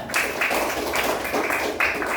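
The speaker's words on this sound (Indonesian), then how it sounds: "Tepuk tangan dulu buat Arya." Classroom applause for a student named Arya, a steady patter of many hands clapping together in a room.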